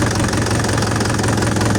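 A DongFeng DF404 tractor engine runs close by under steering load with wheels at full lock, a steady, heavy knocking rumble holding an even note without bogging down.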